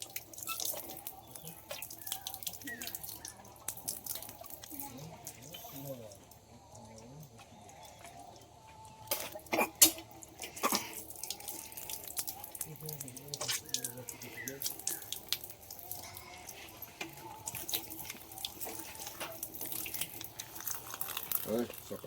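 Tap water runs and drips into a sink while a child washes face and feet at home, a steady splashing trickle with occasional louder splashes, an adult voice talking over it throughout.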